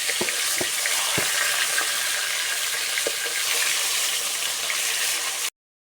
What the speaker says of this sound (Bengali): মাছগুলোকে এখন উল্টে দেব